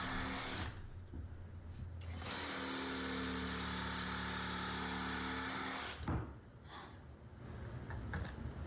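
A power drill whines steadily for several seconds, boring into wood, with short bursts before and after and no talking.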